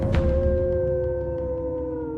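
Dogs howling in a long sustained wail under a steady rush of wind, a single drawn-out cry holding over the gusts as an eerie effect for a spoken horror story set in a remote rural place.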